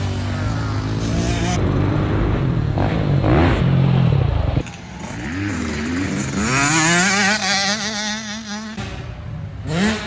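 Kids ride motorbikes around a new dirt track, with small engines revving and droning loudly and steadily, the pitch rising and falling as the bikes accelerate and pass close by.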